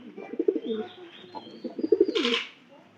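A pair of domestic pigeons nesting with eggs coo in low, rolling phrases, repeated in a steady rhythm at close range, with a brief brighter rustle near the end.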